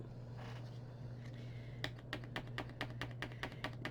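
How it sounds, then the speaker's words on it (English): A brand-new paint pen is tapped against a hard surface to start the paint flowing, giving a quick run of light, evenly spaced clicks over a low steady hum. "Let's see if we can get this paint pen going."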